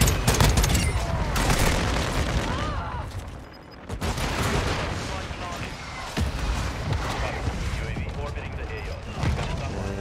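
Machine gun fire in a video game, with rapid bursts and booms dense throughout amid game noise, while players talk over it.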